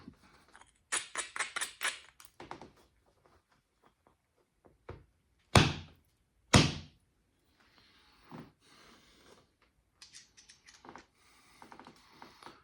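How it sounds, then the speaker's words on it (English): A creek cobble stone struck to knock off a chunk: two loud, sharp stone-on-stone cracks close by, spaced about a second apart, amid quieter scattered clicks and taps of handling. "we're gonna try hitting it right here and taking off this chunk now"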